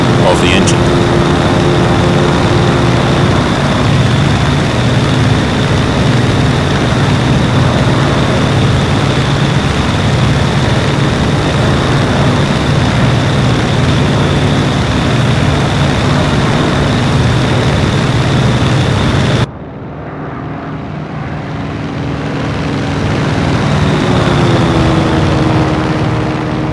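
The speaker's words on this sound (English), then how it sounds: "could you guys hear me over the sound of the engine?" Steady, loud drone of a piston aircraft engine in flight in the IL-2 flight simulator, a continuous hum throughout with an abrupt shift in tone near the end, no other sounds over it.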